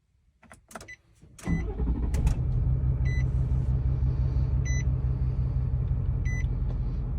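A Nissan Titan XD diesel pickup cranks after a few clicks and thumps, then catches and settles into a steady, low, loud idle rumble, with a few soft chimes from inside the cab.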